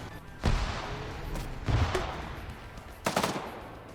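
Three loud bursts of video game battle gunfire, spaced about a second or more apart, each cracking sharply and trailing off into a rumbling echo, with no talking.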